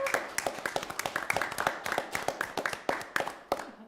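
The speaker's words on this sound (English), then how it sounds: "give her a big round of applause and thank you" A small audience at a Parks & Recreation Commission meeting claps for Jamie, with a few people giving fairly quiet, steady, uneven claps for about four seconds.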